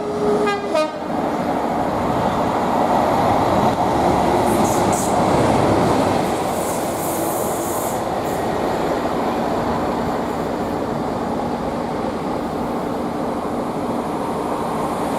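Class 37 locomotive 37884 runs past on the West Coast Main Line at Nuneaton, heading from Derby RTC to Wembley, a loud, sustained rumble and clatter of the passing train lasting throughout, with a brief horn toot at the start.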